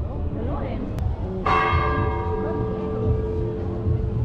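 A church bell in Nazareth strikes once and rings out with a long, shimmering decay over a murmuring background of people nearby.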